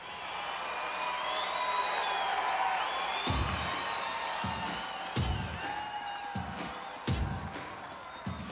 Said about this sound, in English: Ladies and gentlemen, clap your hands and stomp your feet.